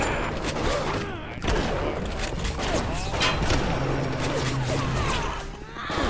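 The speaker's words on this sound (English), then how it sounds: "who's shooting me now?" Video game gunfire crackles in dense, continuous rapid volleys, loud and close, with overlapping shots and mechanical clatter filling the whole stretch.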